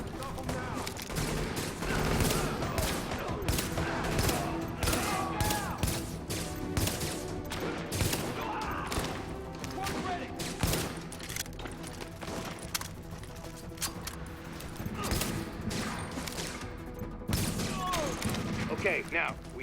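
Rapid gunfire bursts and sustained volleys from a firefight in the video game The Division, loud and continuous across the scene, with a voice talking over the shooting.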